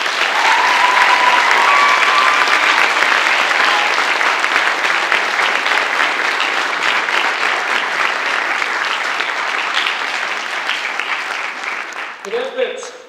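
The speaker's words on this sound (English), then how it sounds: "one more round of applause for next year's staff." Sustained applause from an NJROTC awards-night audience, loud and dense for about twelve seconds before thinning into scattered claps at the end.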